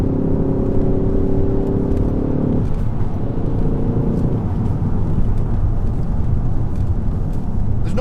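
A car engine revs hard at around 5,000 RPM after a downshift, a loud steady drone with a tonal whine that steps down partway through as the gear changes, continuing as a dense rumble.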